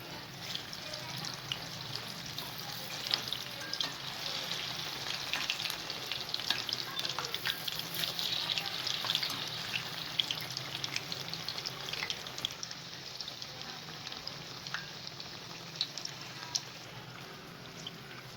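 Sliced colocasia leaf rolls (aloo wadi) fry in hot oil in a pan with a steady, dense sizzle, punctuated by faint crackles and pops of stirring and flipping, with no voices over it.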